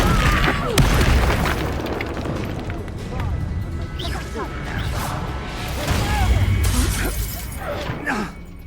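Repeated Confringo blasting-spell explosions in the video game Hogwarts Legacy, loud booms and crashing impacts packed densely together with game voices and shouts over them.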